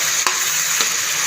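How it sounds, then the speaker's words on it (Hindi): White bottle gourd (kaddu), cooked Pakistani style with no turmeric or tomato, stir-fries in oil to dry off its water. A loud, constant sizzle is broken by two sharp scrapes of stirring. "इसे भून लेंगे ताकि ये जो पानी है बिल्कुल ख़त्म हो जाए और ऑयल हमारा ज़्यादा से हो जाए"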